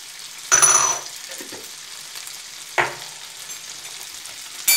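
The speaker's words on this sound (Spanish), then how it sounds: "revolvemos hasta que se cosan un poco estos allí" Seasoned rice with cumin, garlic and onion frying in a pan, a loud sizzling burst followed by quieter crackling, then two more brief stirring scrapes with renewed sizzle, no voices.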